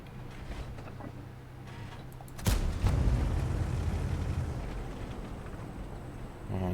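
A tank's main gun firing in World of Tanks, a single sharp, loud boom with a rumbling tail over low engine hum.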